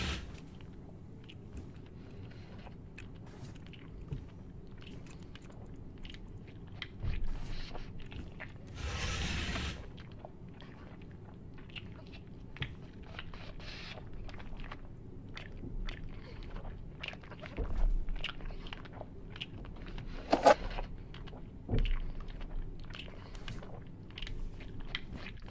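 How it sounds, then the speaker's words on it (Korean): Someone chewing and eating inside a room of an abandoned house in a horror video game, faint wet mouth sounds and crunches recurring irregularly over a quiet, hollow background with occasional louder bumps. "안에서 쫙쫙쫙 안에서 누가 먹방하고 있어."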